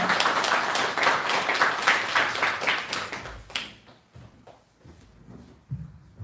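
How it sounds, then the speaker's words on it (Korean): An audience in a church claps in warm welcome for a guest speaker, a dense run of applause that thins out after a few seconds into scattered claps and quieter room sound. "여러분 박수로 환영해 주시기 바랍니다"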